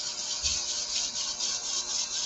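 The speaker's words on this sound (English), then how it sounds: "I'm going to take my sandpaper and go like this." Sandpaper rubbed back and forth over a freshly cut workpiece on a machine that has been backed off so it is no longer feeding, giving a steady close rasping scrape with a rhythmic push-pull pulse and no talking.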